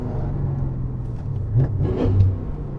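A BMW E39 M5 with a Dinan S2 engine upgrade, heard from inside the car, gives a low, steady engine drone that swells briefly as it pulls through a gear change.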